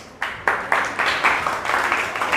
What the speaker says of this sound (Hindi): अब प्रेजेंट कंटिन्यूस वाले अपने लिए तालियां बजा ले एक बार।